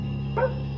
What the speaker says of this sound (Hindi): वहाँ पर सिर्फ कुत्तों के रोने की आवाज़ आ रही थी